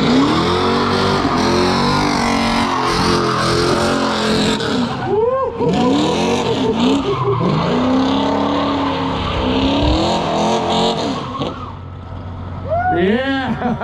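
A Pontiac performs a burnout at a burnout competition, its engine roaring loudly at high revs with rising and falling pitch and screeching tires, while a crowd shouts in the background.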